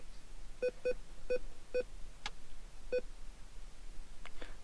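Touchscreen calculator on an aftermarket double-DIN car stereo installed in an OBS Ford truck, giving six short, clean electronic beeps in an uneven tapping rhythm, with a few faint clicks between them.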